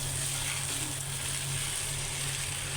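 Noodles are stirred and fried in a little oil in a pan. An even, close frying hiss sits over a low steady hum, and no voices are heard.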